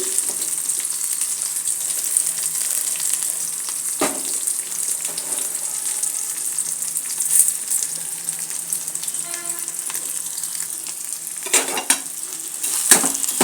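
An egg roasting in a little oil in a pan, a steady close sizzle with occasional stirring scrapes and clinks of a utensil against the pan, no voices.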